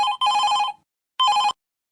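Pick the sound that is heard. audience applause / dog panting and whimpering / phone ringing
phone ringing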